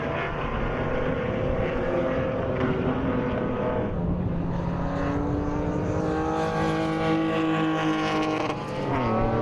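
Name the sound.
BMW race cars racing on track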